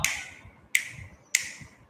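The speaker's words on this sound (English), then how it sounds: "when you touch your kneecap, that area, any that place, 3 times, like they do in Carnatic music" Three sharp taps on the kneecap keeping a Carnatic music rhythm, each a crisp, close click with a short tail, spaced unevenly across a brief stretch with a soft low rumble between them.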